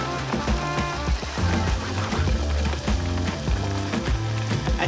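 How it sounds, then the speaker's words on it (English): Donuts crackle and sizzle steadily in hot grease, a dense, close frying hiss that runs unbroken from start to finish with no one talking. "So I'm going to drop a couple in the grease and see how it comes out."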